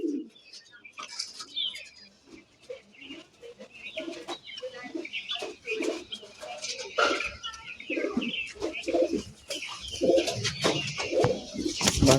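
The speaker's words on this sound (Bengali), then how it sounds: "একটা সাম্বাল পায়রা রয়েছে" Sambal pigeons coo in a loose, irregular series among other pigeons kept in a loft, with chirps and a brief flutter of wings. The sounds are close and mixed with faint background voices.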